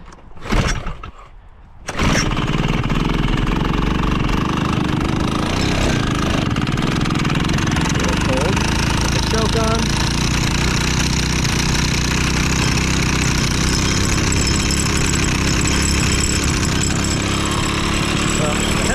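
A 1970s Chrysler Sno-Runner snow bike engine sputters briefly, then catches and runs loud and steady at close range, a constant buzzing two-stroke drone that fills the rest of the clip.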